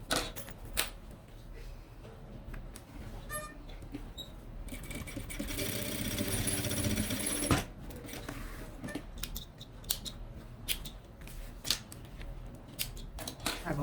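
A sewing machine stitches a strap onto a Kipling-style pencil case, with scattered clicks and handling noises building to a dense, steady run of machine stitching mid-clip before tapering back to intermittent clatter.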